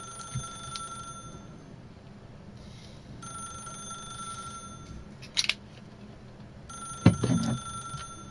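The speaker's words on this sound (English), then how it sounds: "Ain't no way phone would be ringing for that one." A telephone in the video game The Stanley Parable rings in repeated electronic bursts separated by pauses, moderately loud over a low steady hum, with a few sharp clicks near the end.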